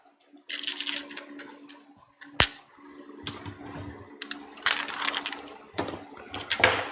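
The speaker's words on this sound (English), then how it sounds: "Throwing them all back in the drawer." Metal sockets from a garage tool kit clatter and clink as they are tossed back into a metal drawer. Several bursts of jangling, with sharp metallic clanks scattered through them.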